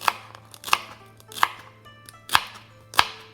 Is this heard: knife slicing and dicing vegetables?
yes